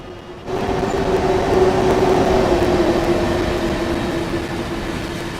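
A train running in the Train Sim World 2 game: a steady, fairly loud rolling drone with a sustained tonal hum that swells slightly and then eases, with no talking.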